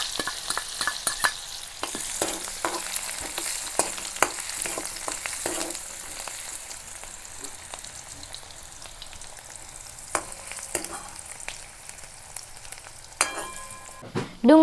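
Onions frying in hot oil with cumin seeds for a Gujarati kantola (spiny gourd) curry: a steady sizzle runs throughout, broken by repeated clinks and scrapes of a spoon stirring the pan, with no talking.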